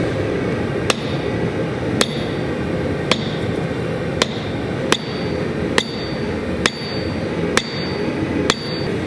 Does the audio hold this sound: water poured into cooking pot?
no